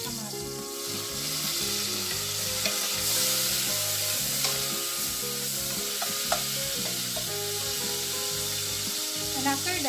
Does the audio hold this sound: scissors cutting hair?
no